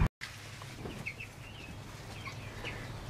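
Meat chickens settled in an indoor coop, with soft clucks and short chirps scattered over a steady low hum of background noise, close but fairly quiet.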